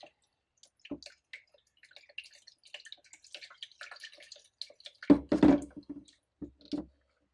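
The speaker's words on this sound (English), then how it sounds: "one more wash in the alcohol." A freshly made 3D resin print from a Sparkmaker SLA UV printer is washed in alcohol, giving soft drips, small knocks and a cluster of wet sloshing splashes, quiet and close with no talk.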